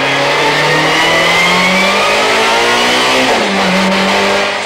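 A lowered, re-engineered BMW 318 touring race car accelerates hard on the Kyalami circuit during 1994 testing. The loud, steady engine note climbs through the gears, dips at a shift, then rises again close by.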